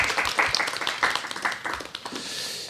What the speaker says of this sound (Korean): 이제 이까지 보러 와주신 이제 객석에 계신 분들한테도 박수 좀 부탁드리겠습니다.